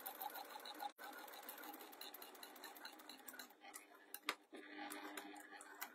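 A very quiet sewing machine runs while stitching a reversible fabric storage container. Its soft whirring hum carries light ticking, with brief stops around the first second and again near four seconds.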